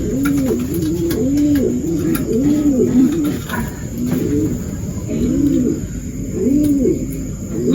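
Pigeons coo over and over in rain, their soft rising-and-falling calls repeating in a steady rhythm up close, with faint chirps and a constant hiss of rainfall behind.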